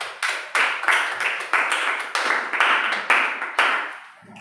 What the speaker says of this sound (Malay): Tepuk tangan ke dia.